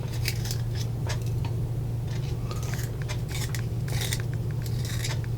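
A Statesmen #2 pencil is turned in a handheld blade sharpener with a dull blade, giving close, steady scraping and crunching of shaved wood over a low background hum, with no talking.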